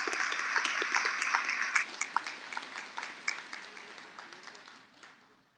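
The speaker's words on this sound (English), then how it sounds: "you can give him a round of applause" Audience applause at a Houston Police cadet class graduation ceremony, a steady round of clapping that peaks midway and then tapers off toward the end.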